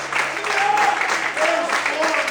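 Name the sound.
applause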